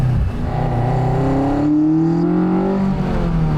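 A 1977 Toyota Celica with a swapped Honda F22C engine revs hard, its pitch climbing steadily through a sustained high-rpm run, loud and close with no talking.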